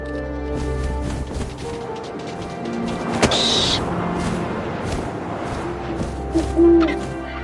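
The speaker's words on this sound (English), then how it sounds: "And suddenly, I was an owl." An owl hoots in the video game What Remains of Edith Finch, a few soft calls over wind and music with some sharp game sound effects and no voices.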